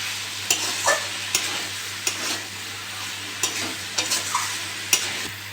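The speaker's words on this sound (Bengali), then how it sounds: "ভালো করে কষে নিয়েছি" Potato pieces are sautéed in thick fish curry gravy with pona fish. A spoon scrapes and stirs in sharp, irregular strokes over a soft, steady sizzle.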